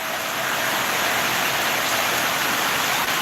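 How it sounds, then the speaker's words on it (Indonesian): Heavy rain pours down at night in Papua, a dense, loud, unbroken roar that fills the whole moment with no voices over it. "Di sini hujan kakak, di Papua hujan."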